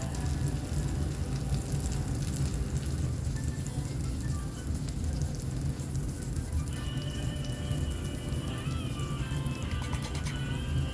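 Tomato cooking in melted butter in a pan makes a continuous soft crackling sizzle like light rain, steady and moderately quiet throughout, with no talking.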